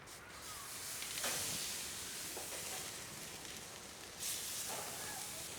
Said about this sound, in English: We're gonna stick this steak right on there.